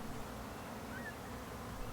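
Bees buzzing in spring sunshine, a steady close drone that holds without a break, with a faint brief higher whine from a passing insect.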